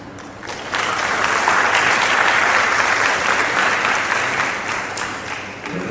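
An audience at a political press meet bursts into steady, dense applause that swells quickly, holds for several seconds, then tapers slightly.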